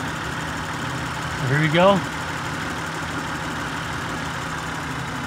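An Acura TL engine idles steadily nearby with cylinder 3 disabled for a misfire test, a low even drone, while someone speaks briefly partway through.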